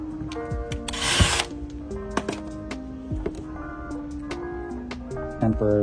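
A power drill with a bit driving into a workpiece while fitting a part held with tape, giving short whining bursts that rise and fall in pitch across several seconds at close range, with a loud sharp burst partway through.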